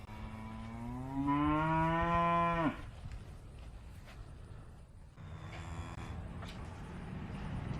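A cow gives one long, loud, close moo that rises and breaks off, followed later by a fainter, lower lowing against a farmyard background with a low steady rumble.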